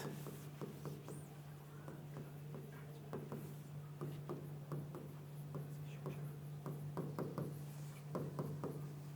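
A marker taps and scratches while a heading is written on a board in a classroom, quiet and close in short irregular strokes over a constant low electrical hum.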